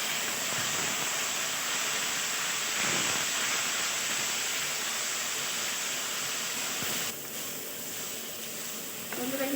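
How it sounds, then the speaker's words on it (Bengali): Frying masala sizzling in a pan after a little water is added while cooking mochar ghonto, a steady loud hissing that continues for several seconds before easing slightly near the end. "এবার দিয়ে দেবো সামান্য একটু জল মশলাটা কষানোর জন্য।"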